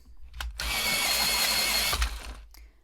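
A close, harsh grinding whir runs for about a second and a half, bracketed by brief clicks, as a colored pencil turns in a pencil sharpener.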